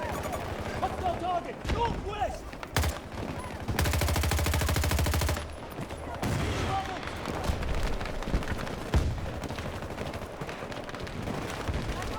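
Gunfire in the shooter game Battlefield 2042: a dense, loud burst of rapid automatic shots in the middle, with scattered shots and battle noise around it and someone talking over the action.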